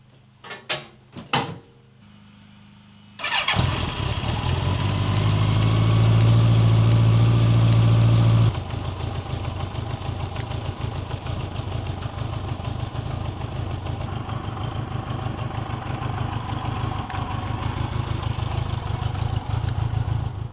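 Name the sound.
motorcycle engine starting and idling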